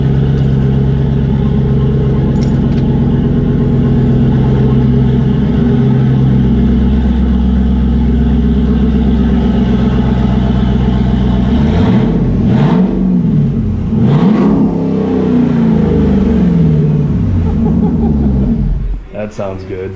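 A Jeep SRT fitted with an aFe Power exhaust rumbles at a deep, steady idle close by, then gives a few short rising revs near the end before settling back.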